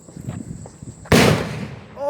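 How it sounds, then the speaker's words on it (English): A single loud, sharp gunshot from the video game Warzone cracks out and decays over about a second. Softer game sounds come before it, and a voice is heard just after. "I hear more gunfire that way"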